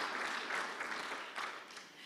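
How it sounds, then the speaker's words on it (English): A conference audience applauds its sponsors, a steady wash of many hands clapping together in a large hall, fairly even in loudness throughout with no voices over it. "Maybe we'll clap that."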